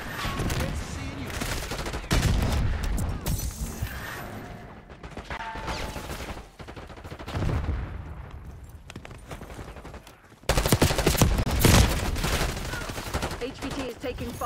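Bursts of automatic gunfire from an MP5 in Call of Duty Black Ops 6 multiplayer on the Derelict map, rapid rattling volleys that come and go, loud and close, with a game voice talking over them.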